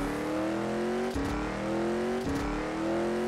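A Koenigsegg One race car engine in the racing game Rebel Racing drones loud and close, revs climbing steadily through two quick gear shifts that break the rising pitch.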